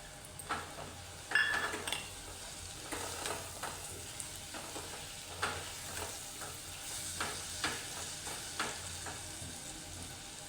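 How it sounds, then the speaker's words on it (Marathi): Jaggery cooks in a pan for methamba, a sweet and sour raw mango relish, with a faint, low sizzle and light, irregular stirring scrapes and clinks. "आणि आता मी हा गूळ ह्याच्यामध्ये घालत आहे."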